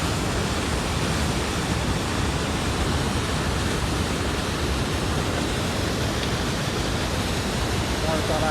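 Splashing running water roars as dense, steady broadband rush with no breaks, close and loud, filling the whole clip.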